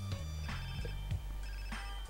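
A phone rings in GTA San Andreas, repeated electronic trilling bursts at a steady rhythm over a low, constant in-game hum, with no talk.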